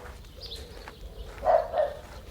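A dog gives two short barks at a moderate distance, the second following quickly after the first, over a low background hum.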